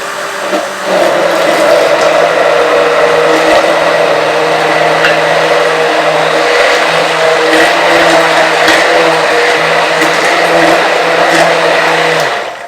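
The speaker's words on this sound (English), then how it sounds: "we're going to turn on this lovely emulsion blender" A loud, steady electric immersion blender whirs continuously for several seconds emulsifying oil into a salad dressing, then shuts off, with no voices.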